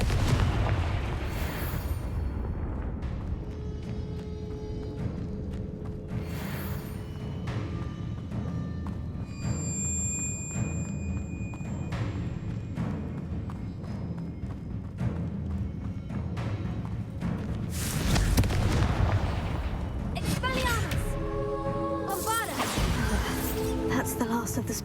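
Explosive spell blasts in the video game Hogwarts Legacy, deep booming thuds and rumbles rolling through a noisy game scene, with a louder burst near the end and game sound effects layered on top.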